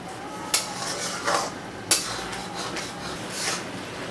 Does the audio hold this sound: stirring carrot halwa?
yes